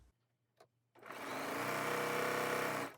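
After a quiet moment with a soft tap, a sewing machine chain piecing a stack of quilt pieces starts up and runs in a steady, fast whirring stitch at close range until it stops.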